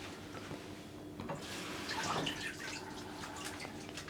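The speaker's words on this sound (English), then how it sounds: "Just go to the sink and we're just going to rinse, so just drain it into there." Water runs and splashes quietly as a Thermomix bowl is rinsed and drained at a kitchen sink, with uneven gurgles and drips rising briefly in the middle.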